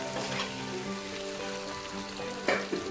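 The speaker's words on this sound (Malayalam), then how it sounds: "നന്നായി ഒന്ന് ഫ്രൈ ആക്കി എടുക്കാം." Three large onions frying in a pan while cooking a Kerala chicken gravy, a steady soft sizzle with a faint tonal hum and a brief louder stir near the end, no talk.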